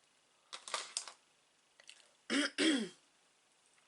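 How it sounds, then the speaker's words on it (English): A person coughs and clears their throat while beading at a close table, a few short bursts: two small coughs early, then two louder, harsher throat clears near the end with quiet gaps between. "coughing a little bit"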